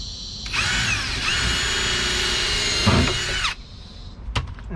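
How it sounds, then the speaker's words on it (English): A power drill whirs loudly for about three seconds, its pitch dipping as it bites into the wood of a fence gate, then winds down and stops. "So now let's drill this part."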